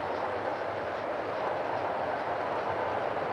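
A model Big Boy locomotive's sound set plays a steady, even rail-style rumble and hiss, with the chuffs dropping in and out rather than beating clearly.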